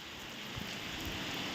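Heavy rain pouring on an open farm field in Ganganagar, a steady even hiss of drops with no voices.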